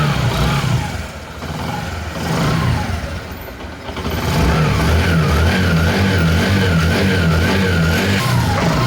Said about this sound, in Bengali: গাড়িটা কিন্তু স্টার্ট হয়ে গেছে, খুব সুন্দর সাউন্ড আসছে।